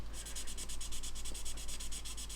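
Steady back-and-forth scratchy rubbing of a fine 1500-grit sanding sponge on a scale model, about a dozen quick even strokes in a row, close and fairly loud over a low hum.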